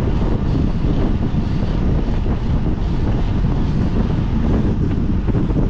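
Strong headwind roaring across the microphone of a traveller on the road between Ksar El Kebir and Casablanca, a loud, constant buffeting rumble that continues unbroken with no voices.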